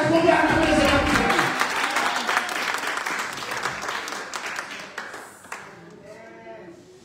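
A church congregation applauding during a worship service, loud massed clapping and cheering that gradually fades and thins out over several seconds, with faint voices emerging near the end.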